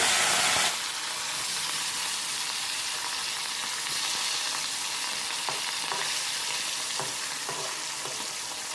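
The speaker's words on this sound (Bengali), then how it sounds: "এখানে মাছের পিসগুলো ভাজা হচ্ছে তো এটা সর্ষের তেলে ভাজলে আরও বেশি ভালো হয় আমি রিফাইন্ড তেলে ভাজছি" Katla fish pieces frying in refined oil in a pan give a steady, dense sizzle that runs without a break after a brief louder start, with faint scraping and clinks now and then.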